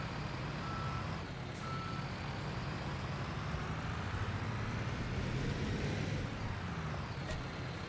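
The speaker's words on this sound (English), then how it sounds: "And I'll just park the truck just inside their car park." Truck parking outside a building supply store in Construction Simulator, with a steady diesel engine rumble, a faint repeating reversing beep over it and a brief hiss like an air brake.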